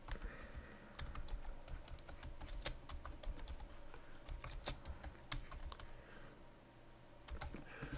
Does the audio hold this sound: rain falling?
no